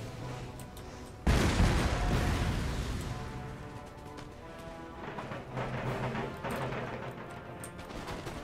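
A massed musket volley in Empire Total War fired on a Landwehr unit: one loud, rolling crash of many shots at once that slowly decays, followed by scattered later shots and battlefield noise.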